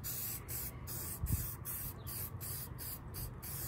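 Aerosol UV protective coating sprayed onto the headlight of an Infiniti G37, a steady broadband hiss running throughout with short pauses and bursts, close and fairly quiet.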